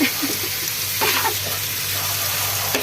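Squid sizzling in a hot pan for Filipino adobo, a steady bright crackle with a few louder spits and a low background hum, no voices.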